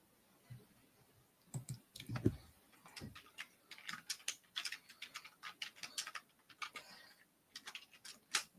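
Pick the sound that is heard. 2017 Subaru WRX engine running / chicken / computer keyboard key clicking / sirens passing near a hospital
computer keyboard key clicking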